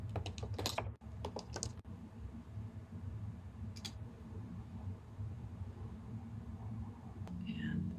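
Keys tapped in short bursts while a Wi-Fi password is entered during a PurpleAir air-quality sensor setup: a few quick clusters of soft, close clicks over a steady low hum, with a faint whisper-like sound near the end.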